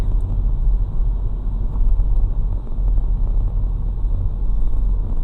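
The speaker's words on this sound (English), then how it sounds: "I'm currently on the freeway. There's tons of traffic" Steady low rumble of freeway traffic in heavy congestion, heard from inside a moving car, continuous and loud with no voices.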